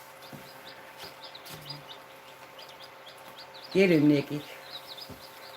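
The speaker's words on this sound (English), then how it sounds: "Just chirp, chirp, chirp, chirp." Young Australorp chicks peep in scattered bursts, with a louder cluster of chirps near the middle and someone talking briefly over them.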